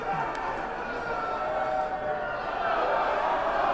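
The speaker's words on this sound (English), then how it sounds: "Boy, the crowd is lively here tonight in Stratford." A lively crowd at a Stratford wrestling event fills the room with a steady, dense roar of cheering and chatter that holds at a constant level throughout.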